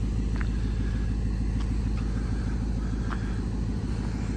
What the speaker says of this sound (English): nice running, smooth V8.